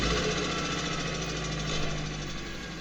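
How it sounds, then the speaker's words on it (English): A Mercedes SLK R171 engine idles just after a cold start at 0 degrees following two months unused, a steady close mechanical drone with a fine rattling texture from the timing chain. "This is a cold start after 2 months of idle time and 0 degrees outside temperature."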